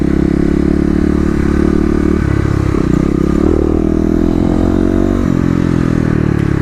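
A Kawasaki KLX250 motorcycle engine drones loud and close during an emergency stop test on wet pavement, its pitch shifting and dropping as the bike brakes, with no voices.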